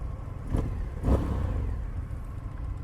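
Indian FTR 1200 S motorcycle, a 2020 Race Replica fitted with an Akrapovic exhaust, revving in two short blips over a steady low idle, fairly close and moderately loud with no talk.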